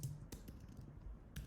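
Rapid computer keyboard typing, several clustered keystroke bursts close to the mic at a steady working pace, with no voices.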